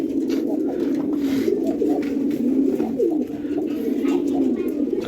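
Pigeons coo in a loft, a steady run of low, soft, rolling calls close by, with faint background rustle and no talking.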